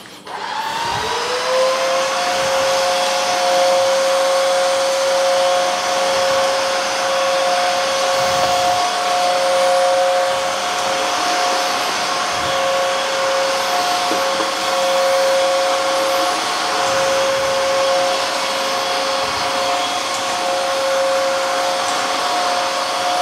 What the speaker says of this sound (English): So now we're gonna clean the kitchen with the Bissell CrossWave HF3.